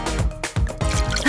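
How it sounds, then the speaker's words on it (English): Melted chocolate is poured into bowls in thick, gurgling glugs broken by brief pauses, close and moderately loud, with no talking. "Pour it up! One in every bowl!"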